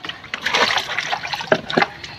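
Water poured during a bath with flowers, a close splashing and trickling wash in uneven bursts lasting a couple of seconds.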